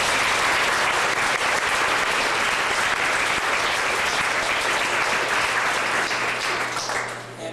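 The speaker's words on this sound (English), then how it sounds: "Let's give them a round of applause." An audience applauds students who walked that morning at a Kris's Wish gathering in Orillia. The clapping is a thick, continuous crowd round over a low steady hum, easing off slightly at the very end.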